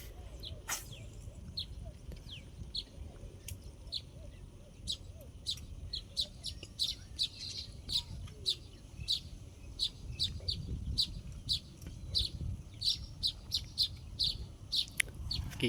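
Many small birds chirp in short, sharp, repeated tweets around nests in a banana plant outdoors, steady and moderately close over low rumbling background noise.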